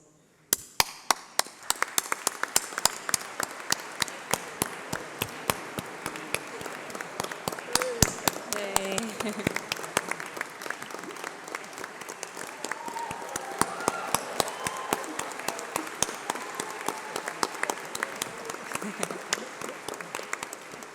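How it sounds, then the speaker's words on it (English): Graduation ceremony audience gives a long, sustained round of applause as students' union members stand, dense clapping with sharp individual claps throughout, filling a large hall with a faint voice now and then. "please can I ask you to stand up while we give you a round of applause"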